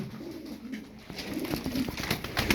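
Female tumbler pigeons cooing close by in a loft, soft low murmuring coos that grow denser toward the end, with faint rustling.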